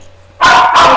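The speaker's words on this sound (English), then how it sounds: "that was my dog Mishka" A dog lets out two loud, sharp barks close by, in quick succession after a quiet moment.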